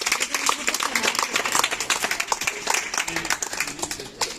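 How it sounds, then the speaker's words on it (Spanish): An audience at a children's beach storytelling show in a civic centre breaks into dense, sustained clapping, a lively crowd of hands pattering steadily for several seconds with some voices mixed in. "Un aplauso a los niños."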